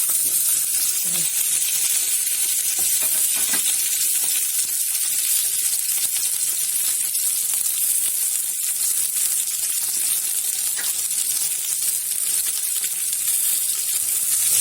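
Onions, tomatoes and cheese sauté in a pan for oven-baked trotters with vinegar and garlic, giving a steady, loud broadband sizzle that holds throughout with faint clinks and no talk.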